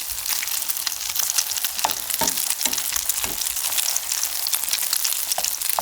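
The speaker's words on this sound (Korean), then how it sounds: "노릇노릇하게 구워주세요." Alaska pollock pancakes pan-frying until golden: a loud, close, steady sizzle with scattered sharp crackles throughout, no voices.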